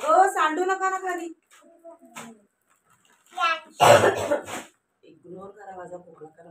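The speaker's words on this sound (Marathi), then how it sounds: "इग्नोर करा माझा खोकला" A woman coughs in short harsh bursts, once near the middle and again with a throat clear, between bits of her own talk and a voice while shopping at DMart.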